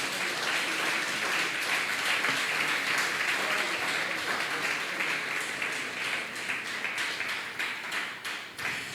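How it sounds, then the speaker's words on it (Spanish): A church congregation gives sustained applause during a Spanish-language service, many hands clapping in a dense, lively stream with sharper individual claps standing out, easing off slightly toward the end. "Démosle un fuerte aplauso a Jesucristo."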